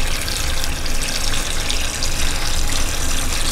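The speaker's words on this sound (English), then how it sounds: "I'm going to fill this up with water." Tap water gushes steadily into a pot of raw peanuts being soaked for Southern-style Cajun boiled peanuts, a continuous, close, loud rush with no talking.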